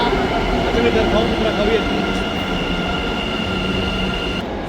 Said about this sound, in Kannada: ಸೊ ಇವಾಗ ನಮ್ಮ ಮೆಟ್ರೋ ಬಂತು ನೋಡಿ